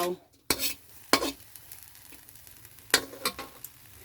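A holy basil stir-fry is worked in a pan with a soft background sizzle, broken by several sharp spatula knocks and scrapes against the metal, fairly quiet and close.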